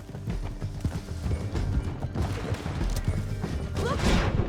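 A horse's hooves clip-clop at a steady gait in the Red Dead Redemption 2 western game, a run of moderately loud knocking footfalls mixed with rattling tack and other busy clatter.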